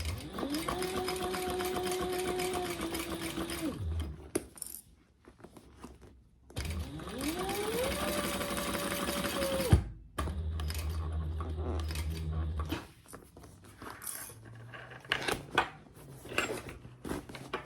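A sewing machine stitches through fabric layers of a beginner bag in two long steady whirring runs, each ramping up and stopping, with quieter handling and fabric rustle between and after.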